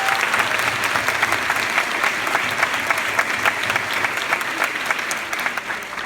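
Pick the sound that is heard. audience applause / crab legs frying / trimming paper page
audience applause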